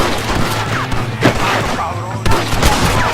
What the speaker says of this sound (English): Get him! Shoot them, Joe!